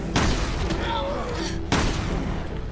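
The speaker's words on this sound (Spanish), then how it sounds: "Más encima le disparo a las murallas." Gunfire in the video game Resident Evil Revelations 2, two sharp booming shots about a second and a half apart, loud against a steady game background with voices mixed in.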